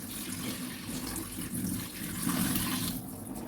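Water being drained off washed ackee in a kitchen, a soft continuous splashing and trickling pour that varies slightly in strength, close and fairly quiet, with no talking.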